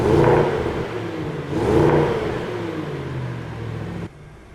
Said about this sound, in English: Let's get this thing out for a drive